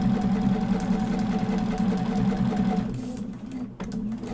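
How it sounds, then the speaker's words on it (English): A sewing machine stitches steadily through a paper-pieced quilt block, its motor humming loud and close with a continuous rhythmic chatter that eases and dips briefly near the end. "take that other pin out and sew all the way to the end"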